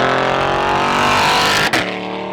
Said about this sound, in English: sound of the FI exhaust